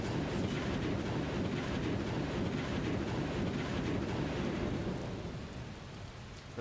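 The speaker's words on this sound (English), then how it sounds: "waits for the thunder to pass" Heavy rain and rolling thunder in a visual novel game scene, a dense continuous roar of downpour with deep rumbling that fills the whole stretch and eases slightly near the end, loud and with no voices.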